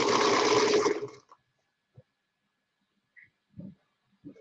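A sewing machine used for quilting runs in a steady burst for about a second, then stops, followed by a few faint clicks and small handling knocks in near silence.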